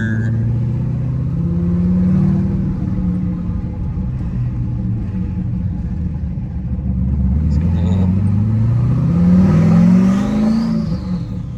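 A turbocharged Camaro with a freshly fitted twin-disc clutch drives off under its own power, the engine rumbling loud and close with rising rev sweeps and a brief whistle, a voice speaking faintly in the background.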